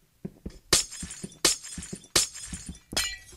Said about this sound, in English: Oh no, I broke my glass.